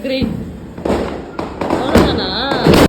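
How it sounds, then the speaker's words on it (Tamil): Diwali firecrackers bursting and fizzing outdoors at a home celebration, several loud sharp bangs and crackling sprays following one another, with whistling sparklers or rockets between them. "கீழே பட்டாஸ்லாம் வெடிச்சிட்டு மறுபடியும் மாடிக்கு போயிட்டு"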